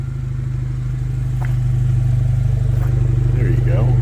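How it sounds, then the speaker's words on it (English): A Chevy Colorado ZR2 Bison with a custom exhaust idling, a steady low rumble heard from behind the truck, close and continuous throughout. "That's pretty cool how that exhaust sounds out the back there."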